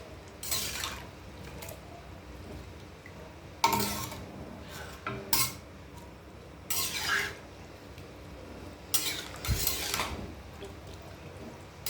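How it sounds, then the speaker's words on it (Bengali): Beef tripe and cold water are stirred together in a metal wok, giving intermittent scraping and sloshing strokes close up, separated by quieter gaps. "ঠান্ডা পানি আর এই ভুঁড়ি একসঙ্গে দিয়ে কড়াইতে এরকম করে লাড়া লাগবে।"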